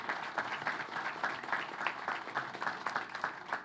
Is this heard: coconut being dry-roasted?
no